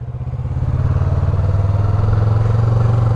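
A new-model Yamaha MT-25 motorcycle idles close by, its steady pulsing engine throb loud and even throughout, with no voices over it.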